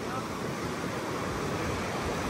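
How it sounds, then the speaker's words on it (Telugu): Glacier-fed river water rushes past at Sonmarg in Kashmir, a steady, loud broadband roar of flowing water that holds constant throughout with no voices. "ఈ నీళ్ళు ఉన్నాయి చూడండి, పైన గ్లేషియర్ నుంచి వచ్చే నీళ్ళు ఇవి."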